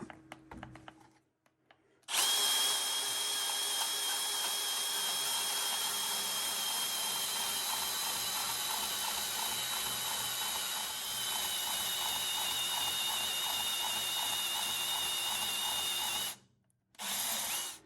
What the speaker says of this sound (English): For that, I'm going to use my Milwaukee bandsaw.